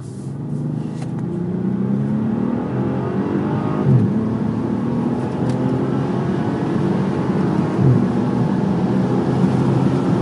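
Bentley Continental Supersports driving on the road, a steady low engine drone held for about ten seconds with slight swells as it pulls, and no voices.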